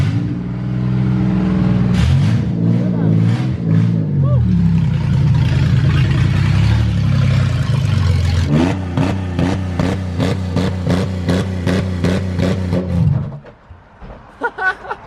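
A car engine idles and revs loudly up close as the car is pulled in, a sustained rough drone rising and falling, then a stuttering pulsing rev before cutting off.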